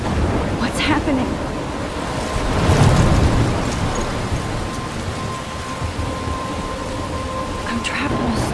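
Heavy rain pours steadily in a stormy Life is Strange scene, with a deep thunder rumble swelling around the three-second mark; the downpour stays loud and dense throughout, with no talking over it.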